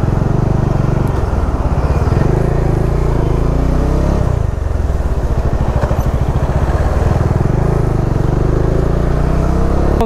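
A Bajaj Dominar 400 motorcycle ridden through traffic on the road to Hyderabad, its engine a steady loud drone close by with constant wind rush over ten seconds, the rumble shifting slightly midway as the ride goes on, with no talking.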